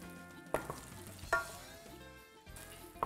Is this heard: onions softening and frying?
yes